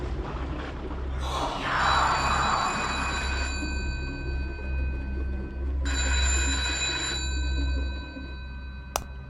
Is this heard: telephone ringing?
yes